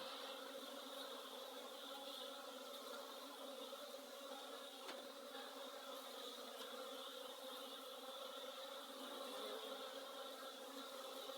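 Honey bees on their first winter cleansing flight, F1 bees from a Danish 119 line of Buckfast stock, make a steady, dense buzzing hum that continues for the whole stretch without talk.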